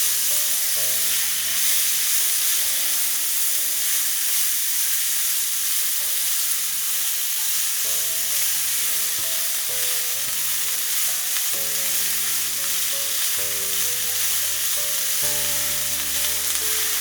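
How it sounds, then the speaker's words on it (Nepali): Fiddlehead fern pickle sizzling steadily in a pan while being stirred, with a constant frying hiss and soft scraping of the spoon, close and unbroken throughout, no talking. "मजाले चलाइदिउँ।"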